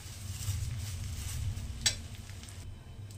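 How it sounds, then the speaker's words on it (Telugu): Flattened rice (poha) with fried peanuts is stirred in a pan over a steady low sizzle, with one brief scrape of the spoon against the metal. "ఈ అటుకులు యాడ్ చేసిన తర్వాత చక్కగా కలుపుకోవాలండి"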